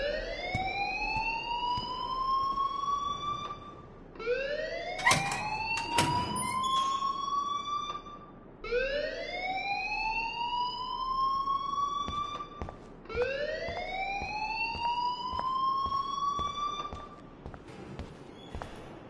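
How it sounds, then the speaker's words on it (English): A school alarm in Life Is Strange wails in four loud, rising electronic sweeps, each climbing in pitch and cutting off before the next begins, with a sharp clatter partway through. "please turn off that alarm since that's your job"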